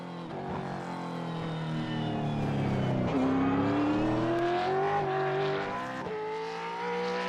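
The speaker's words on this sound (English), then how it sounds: "Little skid for the fans." Game car engine in iRacing revving and shifting through gears with a rising whine, loud and continuous, probably with faint tyre skid under it; no talk.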